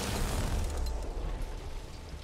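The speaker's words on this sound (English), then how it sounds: "Okay, I'm throwing my second grenade" Grenade blast in a video game, a loud, low booming burst that rumbles and fades over a couple of seconds.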